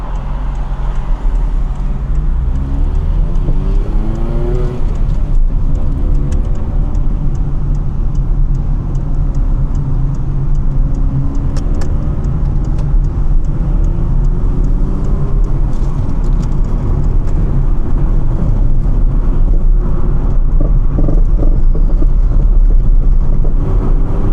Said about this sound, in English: the traffic is bad